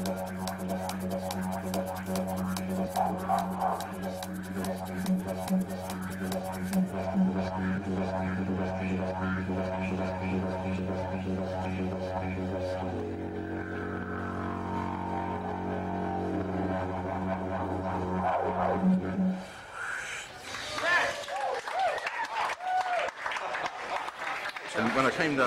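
A street busker plays a repaired didgeridoo before a gathering crowd, a steady, buzzing low drone with rich overtones holding for about twenty seconds under crowd noise, then giving way to a brighter, busier passage.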